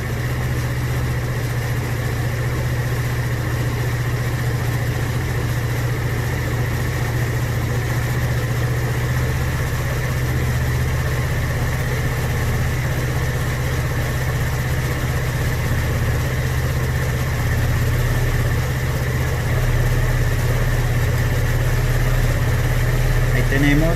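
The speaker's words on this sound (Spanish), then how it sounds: "escuchamos que el motor se acelera" A motorcycle engine held at about 2000 rpm during carburetor tuning on the idle screw, giving a steady, continuous close-up drone with a low, even hum and no clear change over the whole stretch.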